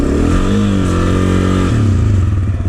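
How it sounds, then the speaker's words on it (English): A dirt bike engine revs loud and close on a hill climb, its pitch rising and falling with a rough, rattling buzz. "So you heard me rev up the engine"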